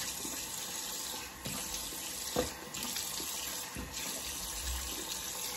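Cold tap water runs steadily into a bathroom sink for a post-shave rinse, a close, continuous splashing stream with a few louder splashes and clunks as hands move through it, no speech.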